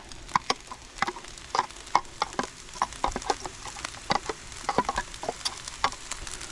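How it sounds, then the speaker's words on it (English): Onions being stirred into a pot of campsite jambalaya, with a steady run of sharp clinking spoon scrapes against the pan over a soft sizzle, close and fairly loud, no talking. "We're going to mix the onions into the rest of it."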